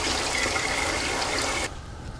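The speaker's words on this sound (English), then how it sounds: "So I'm gonna add more water to this." Water pours steadily into a pot of refried beans cooking with chilies and turkey necks, a loud continuous gushing fill that stops abruptly near the end, leaving quieter room sound.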